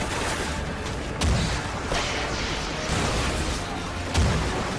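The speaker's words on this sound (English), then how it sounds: "what kind of machine gun is that?" Sustained machine gun fire from a Call of Duty: Ghosts campaign battle, a dense continuous rattle with louder bursts near the start and end, mixed with other battlefield noise and no talking.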